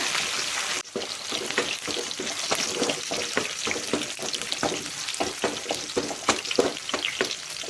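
Garlic, ginger and curry leaves frying in hot oil while being stirred, a close, continuous crackling sizzle broken by regular scraping strokes of a spoon against the pan.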